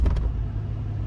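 Low, steady rumble of a 2021 Ram TRX V8 idling, heard from inside the cab, a constant deep drone with no speech over it.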